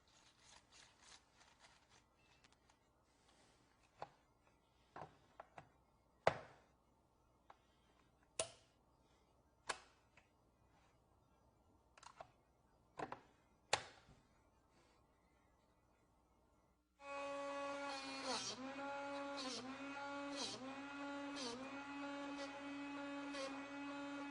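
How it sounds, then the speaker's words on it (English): Scattered clicks and clunks as a drill bit is aligned in a Drill Doctor sharpener, then a steady, loud whirring grind starts up and runs continuously. "watch as a bit is aligned, then sharpened"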